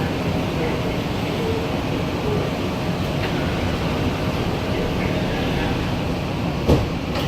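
The Tampa Airport SkyConnect automated people mover pulls away from the station, giving a steady, close rumble of wheels and motors inside the car, with faint announcement-like voices mixed in.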